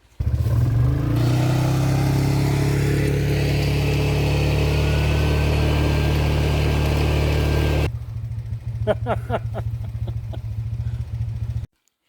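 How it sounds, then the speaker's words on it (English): A chainsaw cutting a path through woodland for a quad and trailer during an elk hunt, a loud steady engine drone that cuts out abruptly, leaving a lower idling motor and a few faint clicks. "Once they're done chainsawing the path for the quad with the trailer"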